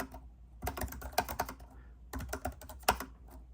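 Fingers type on a wired ergonomic split keyboard, giving quick clusters of close, clacky key presses in two bursts separated by a short pause, with no talking.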